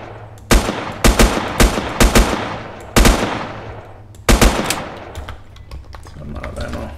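Bursts of gunfire in the survival shooter Next Day: Survival, a few loud strings of rapid automatic shots with sharp onsets and trailing echoes, spaced over several seconds above a low steady game ambience.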